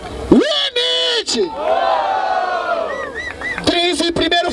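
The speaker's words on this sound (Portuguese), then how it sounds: "Barulho para as rimas de Trice!" Crowd at a Brazilian rap battle semifinal roaring and shouting in a sustained, loud wave, with individual yells rising over the noise and a voice cutting in at the start and end.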